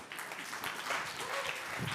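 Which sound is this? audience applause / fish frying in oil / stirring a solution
audience applause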